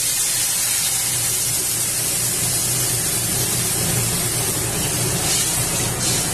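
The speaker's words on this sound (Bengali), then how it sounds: "এবার জল দিয়ে দেব।" Water poured into a cooking pan for a thin fish curry with singi fish, a loud, steady rushing hiss that runs unbroken for several seconds with no talk.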